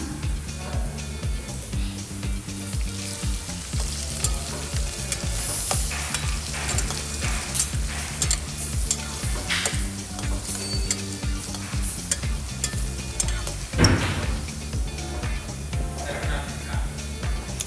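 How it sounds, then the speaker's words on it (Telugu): Lentils and chopped onions sizzle steadily in a hot pan for a spinach onion-spice dish, stirred with repeated scraping strokes, close and continuous, one louder clatter near the end. "ఆ తర్వాత పప్పు వేసుకుందాము ఆ తర్వాత ఉల్లిపాయలు కట్ చేసిన ఉన్నాయి కదా అవి కూడా వేసి కలుపుకుందాం"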